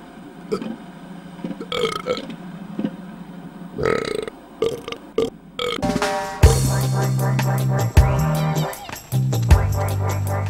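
Loud, deep belching: several short croaky burps at first, then a long, powerful drawn-out eructation rumbling for several seconds with gurgling breaks.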